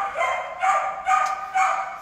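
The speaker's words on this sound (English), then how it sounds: "One of those puppies is really, really barky." A puppy at an animal adoption shelter gives four quick, high, yappy barks close by, evenly spaced, with no talking over them.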